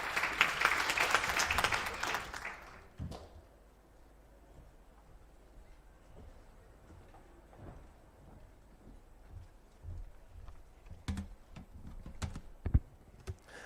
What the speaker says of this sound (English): Let's give him a warm round of applause as he makes the opening remarks.